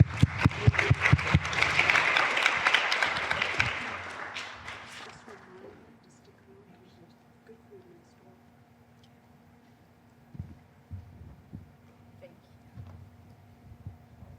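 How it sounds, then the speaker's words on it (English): Audience at a gun violence discussion panel applauding the panelists, a loud round of clapping for about five seconds that fades out, followed by quiet room tone with a few faint knocks and murmurs. "Let's give our panelists a round of applause."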